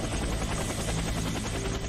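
An evac helicopter arriving in the Warface video game on Xbox, its rotor thudding in a loud, continuous chop with dense engine roar throughout, and no talking over it.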